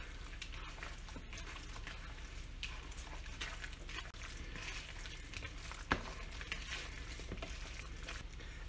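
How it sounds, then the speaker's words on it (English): Ground venison meatloaf mixture with oats and milk is mixed by hand, giving quiet, close, continuous wet squishing and stirring with one brief louder knock near the end. "Now we're just going to go ahead and mix this by hand."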